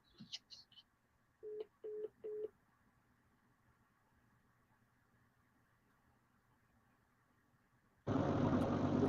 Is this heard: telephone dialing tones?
yes